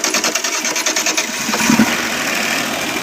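The carbureted engine of a 1975 Dodge motorhome cranks with rapid rhythmic pulses, then catches and settles into a loud, steady idle.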